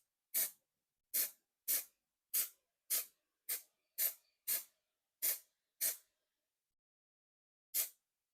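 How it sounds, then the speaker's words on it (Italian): Green Stuff World chrome spray paint hissing from an aerosol can in eleven short, sharp bursts, evenly spaced at first, then a pause before a final burst, close and clear with no talking. "adesso procediamo con lo spruzzare appunto lo spray al cromo"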